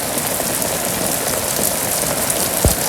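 Steady rain pours down on a Bangladeshi village, a dense continuous patter of drops on surfaces with no voices.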